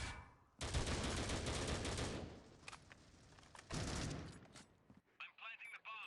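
Bursts of rapid automatic gunfire from a Critical Ops tournament match, loud and dense in two long volleys with scattered single shots between, then a brief quieter stretch of small clicks and chirps at the end.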